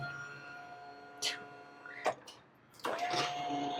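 A powered adjustable dash on a 2025 Ranger Tug boat moves with a quiet electric motor whine and a few soft mechanical clunks, faint and close, against a humming background.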